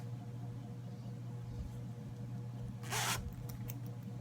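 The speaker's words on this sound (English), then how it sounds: "It's got an orange zipper." A single short zip is pulled on an orange zipper of a soft, fleecy notions pouch, close and crisp against a quiet, humming room.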